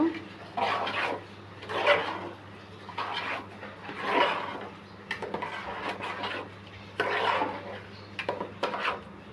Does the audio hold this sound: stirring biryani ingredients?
yes